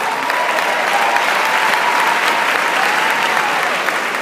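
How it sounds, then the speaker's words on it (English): Convention audience in Las Vegas bursts into sustained applause, dense steady clapping filling the space for several seconds with a faint crowd murmur underneath. "Give them a round of applause."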